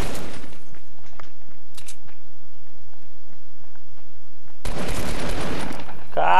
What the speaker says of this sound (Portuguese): tem que dar muito tiro pra matar com essa arma